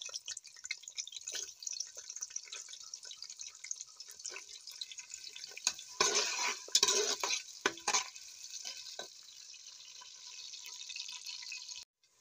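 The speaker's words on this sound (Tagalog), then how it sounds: "Already hot this oil, so we put now this onions, slices of organic onions." Slices of organic onions dropped into already hot oil, a steady close hiss of frying running throughout, swelling louder for a few seconds midway as they are tossed, then cutting off abruptly at the end.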